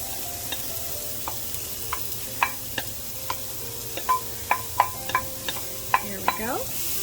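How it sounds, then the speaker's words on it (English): Diced onions sizzle loudly in a stir-fry pan for a chicken and shrimp stir fry, a steady hiss broken by scattered sharp clinks of a utensil against the pan, with no talking. "Hear that sizzle?"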